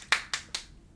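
Three quick, sharp hand claps close by, evenly spaced and ringing briefly, with nothing else around them.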